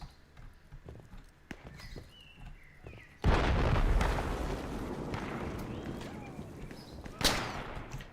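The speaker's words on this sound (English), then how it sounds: "whoever's shooting at me is most likely a bolt action of some sort, judging from the pauses" Gunfire in the military shooter Project Reality, with a loud blast or shot that opens into a long rumbling tail and a second sharp crack a few seconds later, after quieter clicks and movement.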